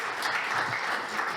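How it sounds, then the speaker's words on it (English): An audience at a health talk on spinal cord injury claps steadily, a dense, even wash of applause that fills the short moment. "Give them a round of applause for being here."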